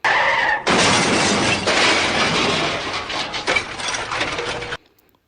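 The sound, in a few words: car crash sound effect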